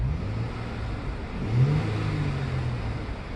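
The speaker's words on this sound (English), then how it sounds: "So let's say I start revving up the car." Engine of a 2018 Dodge Charger Sport Package revving inside the car, a steady low drone that rises briefly into a whining climb mid-clip, then settles back; no talk.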